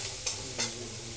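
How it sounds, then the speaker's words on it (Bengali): Taro fruits being stir-fried in an oiled pan, with a steady low sizzle and two brief scraping stirs close by; no voices. "ফলগুলো ভালো করে কষিয়ে নিচ্ছি"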